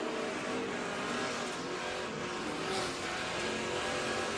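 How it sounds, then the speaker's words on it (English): NASCAR Camping World Truck Series trucks race on the Eldora Speedway dirt track in a 2017 last chance qualifying race, engines roaring loud and continuous with shifting revs as the pack runs close together. "Chavis on the bottom is trying to get inside of the 0 truck of Forrester"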